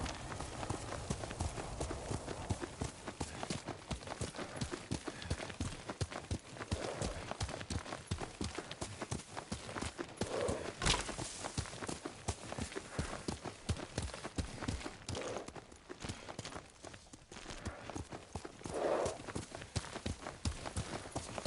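Steady clip-clop of horse hooves at a trot in Ghost of Tsushima, a dense continuous rhythm close by, with faint background ambience and no talking.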